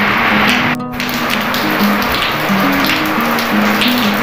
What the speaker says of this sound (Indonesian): Lagi hujan guys, ini teh. Pasti kedengaran.